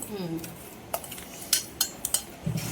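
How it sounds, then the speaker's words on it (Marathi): Spice masala and salt being mixed into fish for frying, with scattered clinks and taps of a utensil against a metal dish, a few sharp knocks standing out over quiet kitchen background. "थोडासा मसाला टाकले मीठ व्यवस्थित फिरवून घेणार आहे"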